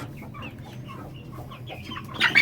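A Thai Shamo Aseel hen clucks in short repeated bursts, fairly close, with a brief louder squawk at the end; no talking.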